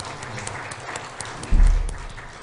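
A church congregation breaks into applause during a Sunday worship service, the clapping surging loudly for about a second over a quieter backdrop before fading.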